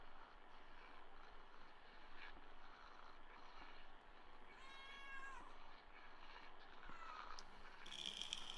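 A cat in the video game Kentucky Route Zero gives a couple of short, faint meows midway and near the end, over a steady low ambient hum.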